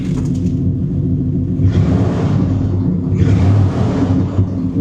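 A 1987 GMC Sierra 1500 pickup's engine idling with a deep, loud rumble, then revved twice in quick swells that rise and fall, close up with no talk.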